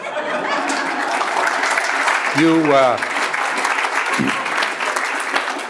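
A keynote dinner audience applauds with sustained, dense clapping mixed with some chuckles, while a voice speaks briefly over it partway through.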